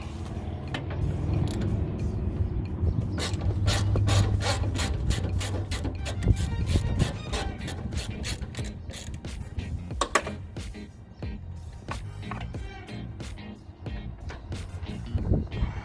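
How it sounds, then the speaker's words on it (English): A ratchet with a 10mm socket on a 4-inch extension works a bolt loose during car front clip removal, giving rapid close clicking bursts over a mechanical background. "in order to remove that bolt, you're going to want at least a 4-inch extension in order to get in there"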